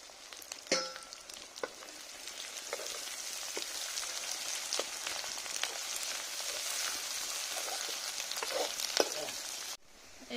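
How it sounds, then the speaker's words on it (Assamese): Ginger garlic paste and onions fry in a pan, giving a steady, close sizzle that runs throughout, with occasional sharp clicks and scrapes from stirring. "ভাজি থাকিম একদম ৰঙা নোহোৱালৈকে।"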